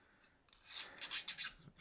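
A file or deburring tool rasps against a machined metal part in a quick series of close, scratchy strokes, faint at first and then louder and rhythmic.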